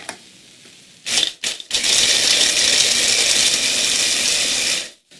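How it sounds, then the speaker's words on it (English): A food processor blending rolled oats, panko, raw cashews and salt gives a few short pulsing bursts, then a loud steady whirring grind for about three seconds before stopping. "food processor today, so let's go ahead and get this mixed up"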